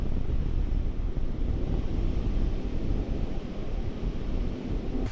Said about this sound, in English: Also, it's like super cold and windy.